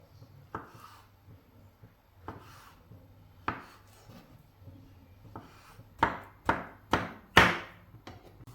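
A kitchen knife cuts food into cubes on a board for Nigerian gizdodo, with sparse single chops at first and then a quick run of four sharp, close strokes near the end.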